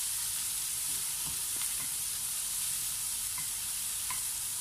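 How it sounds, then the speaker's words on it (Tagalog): Onions sauté in a pan with a steady, close hiss of sizzling oil. Occasional soft stirring taps break through, and no voices are heard. "saka natin gigisahin ang ating sibuyas. Bisahin lamang po natin ito ng 1 minute"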